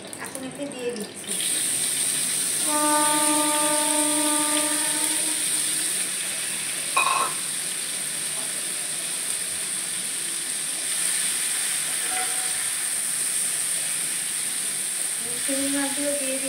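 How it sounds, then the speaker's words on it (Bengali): Prawns rubbed with salt and turmeric hit hot mustard oil in a pan, giving a loud, steady hiss and sizzle that runs unbroken, with brief bits of talk and small kitchen clinks over it. "তো সর্ষের তেলটা গরম হয়ে গেছে, তো আমি চিংড়ি মাছগুলো এখন এতে দিয়ে দিচ্ছি।"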